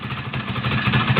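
Honda CBR 150 motorcycle with a stalling, sputtering fault, its engine running close and loud with a steady, slightly uneven throbbing drone through a short burst.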